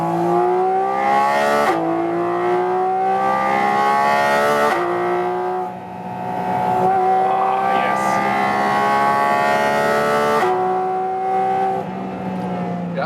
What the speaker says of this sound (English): And I love this naturally aspirated engine.